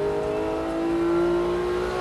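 A Porsche GT3 race car on a track driving course pulls hard through third gear, its engine note climbing steadily in a loud, continuous, close-up drone with no talking.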